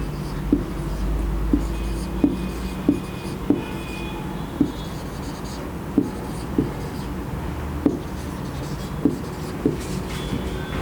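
A pen or marker writes on a board in short strokes, with soft, regular scratches and taps that come about once a second against a low background hum.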